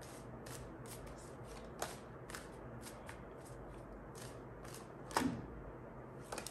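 Tarot cards are shuffled by hand up close in a quiet room, a soft series of riffling bursts and light slaps at an irregular pace, with no voices.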